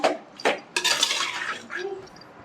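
A metal spoon knocks and scrapes against a clay pot as mutton is sautéed in oil, a couple of sharp clanks followed by steady scraping.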